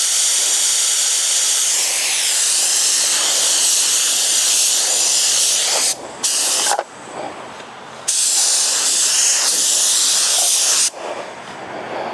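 A paint spray gun hisses steadily during a budget chameleon paint job, a loud, continuous pressurized spray that stops briefly twice before resuming, with no talking.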